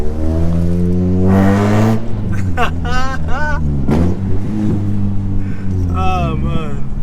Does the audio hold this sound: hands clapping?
no